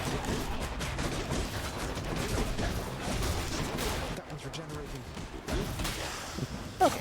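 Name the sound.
explosions in the video game Hades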